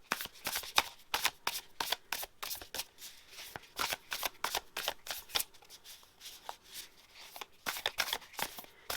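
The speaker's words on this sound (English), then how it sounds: "Give it a really good shuffle." Tarot cards riffled and shuffled by hand close up, a rapid series of crisp papery flutters and slaps coming in uneven bursts for the whole stretch, with no talking over it.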